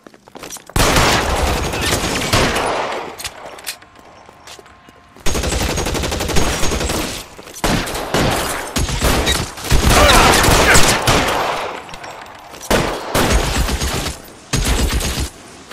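Loud, dense shootout gunfire from the L.A. Noire video game, with rapid volleys and machine-gun bursts firing across most of the stretch, broken by a brief lull before the shooting resumes.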